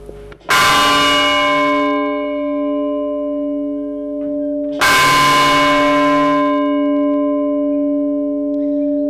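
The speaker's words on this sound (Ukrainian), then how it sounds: "за їх допомогою складається основна мелодія та великий благовісний дзвін" A large church bell strikes twice, each deep resonant clang followed by a long, humming ring that lingers and slowly fades.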